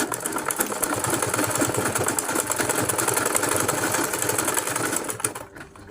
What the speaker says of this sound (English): you take it to your sewing machine